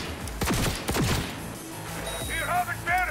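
Gunfire in Cyberpunk 2077 on a very hard difficulty setting: several sharp bursts of shots in quick succession early on, followed by electronic chirps and warbling tones, loud and close throughout.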